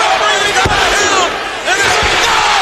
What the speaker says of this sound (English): Crowd pop hard.